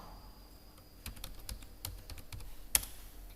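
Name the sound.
typing google.com on a computer keyboard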